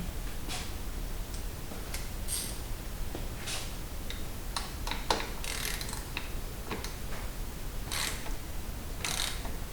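A ratchet tightens a 1/2 inch nut on a Harley-Davidson Sportster mirror mount, giving quick, close, irregular clicking bursts over a steady faint background, with no talk.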